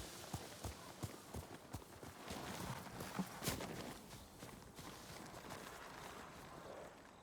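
A horse walks with slow, evenly spaced hoof clops on the ground in the Ghost of Tsushima video game, fairly quiet and close, later fading under a soft ambient wash.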